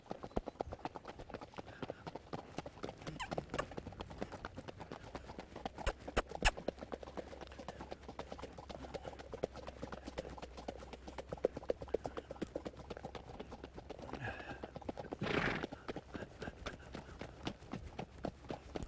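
A horse trots and hooves clip-clop in a quick, steady rhythm throughout, fairly faint and from a moderate distance, with a brief louder thump near the end.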